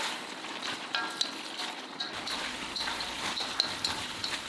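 Shrimp, udon noodles, vegetables and sauce being tossed and stir-fried in a pan, a steady soft sizzle with faint scraping and tossing sounds running throughout, no voices.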